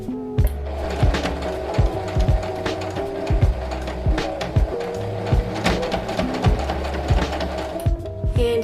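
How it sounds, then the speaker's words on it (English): A sewing machine sews a sleeve cuff down on a puff sleeve top, running steadily with a rhythmic mechanical clatter and regular thumping for several seconds, close and clear, without talking. "Just like this, and then sew it down."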